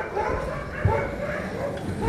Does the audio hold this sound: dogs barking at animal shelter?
yes